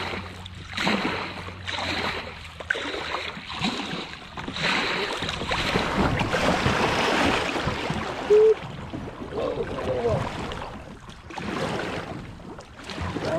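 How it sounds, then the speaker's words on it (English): A kayak runs a river rapid on the Finley River in the Ozarks, Missouri, with close splashing, rushing water and rhythmic paddle strokes that build and surge, then ease. "Let's get ready for the rapid"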